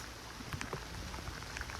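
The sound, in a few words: rain falling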